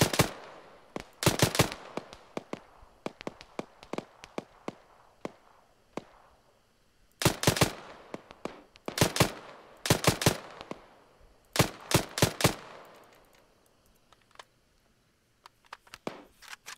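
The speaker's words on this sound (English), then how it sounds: "I'm gonna just start putting a couple of bursts through windows." Automatic gunfire in a first-person military shooter game, fired in several short sharp bursts with pauses between, loud and close, some bursts longer and denser than others, with no talking.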